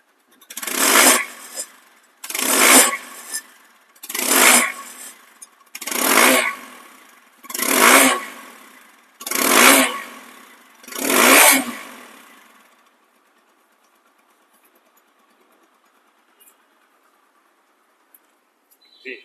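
A 2024 TVS Apache RTR 160 motorcycle in showroom condition with low mileage revs its engine in seven strong, evenly spaced throttle bursts, each rising and falling away, before the engine goes quiet for the rest of the clip.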